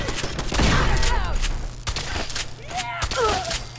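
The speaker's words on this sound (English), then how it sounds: "Who's shooting at me?" Video game gunfire in Fallout 4, with volleys of shots aimed at the player, sharp cracks scattered through a noisy battle ambience and mixed with voices and other game sounds.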